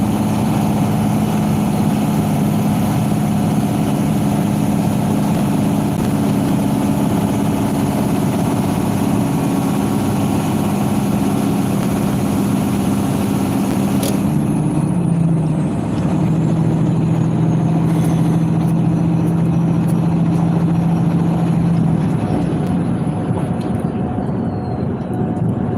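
A car engine hums steadily while driving, a low continuous drone with a constant tone that dips and settles partway through, loud and close, with no talk.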